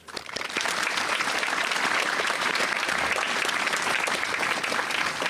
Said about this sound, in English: Can we please offer a round of applause?